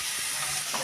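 Chopped tomatoes frying in a pan for prawn gravy make a brief, even, close hiss and sizzle.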